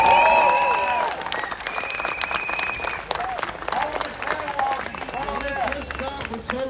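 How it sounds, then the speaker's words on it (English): Rally crowd at a freedom protest in Sydney applauding and cheering, a dense sustained wash of clapping and raised voices that starts loud and settles slightly lower, with a voice speaking through it. "So big round of applause and a cheer,"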